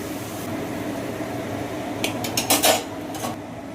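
A metal utensil scrapes and clinks against a pan as fried potatoes are lifted out, a short cluster of bright clatters over a steady fan-like hum, with no talking.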